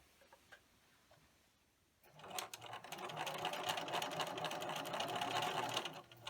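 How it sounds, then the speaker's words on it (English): Quiet rustling gives way to a sewing machine stitching an unpinned quarter-inch seam on a string-pieced fabric potholder, its rapid stitching clatter continuing loud and close for several seconds. "we're going to go to the sewing machine and we are going to stitch a 1/4 inch seam"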